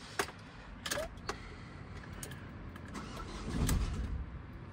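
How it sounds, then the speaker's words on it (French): A car engine cranking after an oil change and catching only briefly, with a few sharp clicks and clunks early on, then a low rumble that swells near the end and fades, fairly faint. "le moteur il a un peu démarré"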